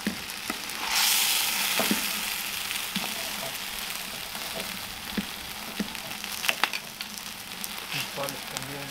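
Food fries in a pan and is stirred by hand, a steady close sizzle overlaid with repeated scraping and knocking from the utensil, one louder surge of hiss near the start.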